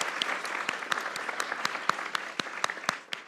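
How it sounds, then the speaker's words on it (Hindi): Applause celebrating India's T20 World Cup win over New Zealand, a steady patter of clapping from a small group with sharp individual claps standing out, moderately near and fading slightly at the end. "इंडिया के लिए तालियां"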